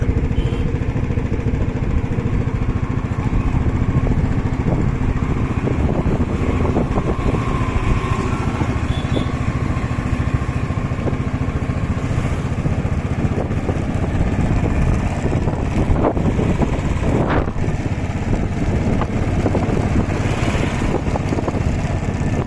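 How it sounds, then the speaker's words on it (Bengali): A motorbike ridden through dense fog on a hill road near Ghum, Darjeeling, giving a steady loud engine drone and wind rumble that runs the whole time with no break. "সাবধানে বাইক চালাতে হবে"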